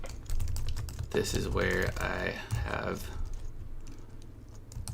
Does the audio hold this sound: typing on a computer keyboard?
yes